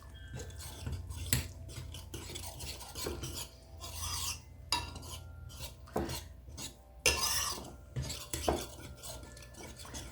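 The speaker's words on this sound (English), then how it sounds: "I'm just going to stir this together." Beaten eggs stirred in a bowl for chocolate bread pudding, with repeated scraping and clinking strokes of a utensil against the bowl, close and fairly quiet, in an uneven rhythm with no talk.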